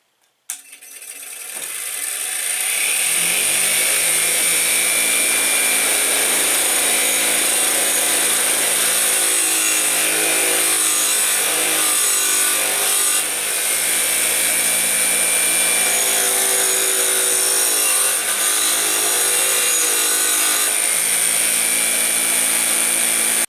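An old brushed power tool motor spins up from a click and runs loud and steady with a high whine and buzzing hum, its pitch sagging briefly several times as it bogs down under load.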